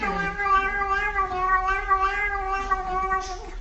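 A cat meows in one long, drawn-out caterwauling call that rises and falls without a break for nearly four seconds. It sounds close and fairly loud, and no voices are heard.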